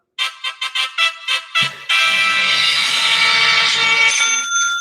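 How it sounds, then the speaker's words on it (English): A congratulations victory jingle plays on a livestream, opening with about eight quick bright chime-like tones before swelling into a loud, sustained celebratory fanfare that holds steady to the end, with no talk over it. "where's the congratulations sound?"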